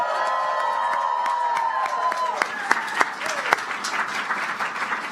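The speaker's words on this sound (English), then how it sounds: "Can we get a round of applause for our volunteers?" A crowd of Democratic staff and campaign volunteers bursts into applause at a rally, sustained dense clapping mixed with cheers and whoops, a few loud close claps popping out midway, with some shouting voices under it.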